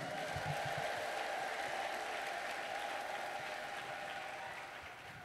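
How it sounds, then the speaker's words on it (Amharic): A church congregation applauds in sustained, dense clapping that stays steady before easing slightly at the end, with faint crowd sound beneath and no distinct speech. "ለጌታ እልልታና ጨብጨባ ስጡ እስቲ።"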